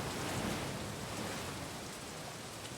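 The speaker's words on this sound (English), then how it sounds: "It must rain here quite frequently, I guess." Steady rain falls in the adventure game The Dark Eye: Chains of Satinav, a soft, even wash of patter with no voices, holding at a moderate level throughout.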